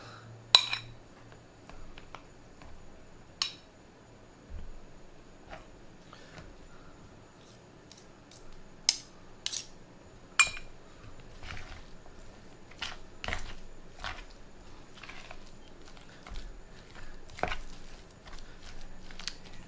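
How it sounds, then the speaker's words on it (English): Shredded smoked blacktip shark folded into a dip mixture in a bowl: quiet soft squishing with scattered light clinks and scrapes of a utensil against the dish, irregular and close. "Now I'm going to start folding in the shark."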